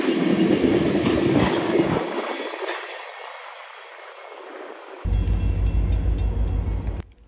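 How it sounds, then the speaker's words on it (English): Train M331 passes on the single main track at CP95 in Marion, Ohio, a loud rumbling roll of cars with clatter and squeal, easing off mid-pass before a heavy low drone of locomotive or cars surges back and cuts off near the end. "M331 was on the single main about to pass by"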